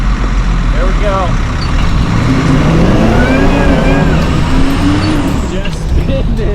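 Off-road vehicle stuck in dirt during a recovery, engine revving steadily as the wheels spin, loud and close with a continuous churning roar; voices talk over it.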